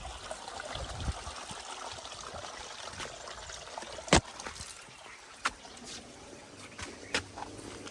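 Irrigation water mixed with fertilizer running through a vineyard plot, a faint steady trickle with a few sharp clicks and taps scattered over it.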